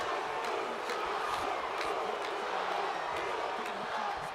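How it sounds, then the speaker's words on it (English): Arena crowd noise from a WWE 2K19 wrestling video game tag-team match at Fastlane, a steady roar of cheering and chanting that holds level throughout, with faint speech-like voices mixed into the din. "The crowd is all behind the Usos right now."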